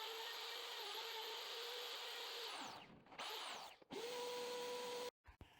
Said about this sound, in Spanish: ya empiezo a nivelar con el router